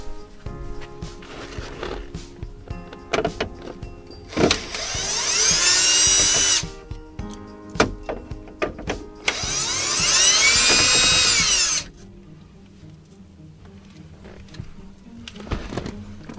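A cordless drill backs out the radio screws in a Dodge Ram 1500 with two loud whirring bursts of a couple of seconds each, set among clicks, clatter and handling noises.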